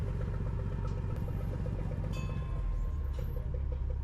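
A passenger boat's low, rumbling engine drones continuously at close range on the Ashtamudi backwaters near Kollam, steady and throbbing, with a faint clatter and a brief high squeal partway through.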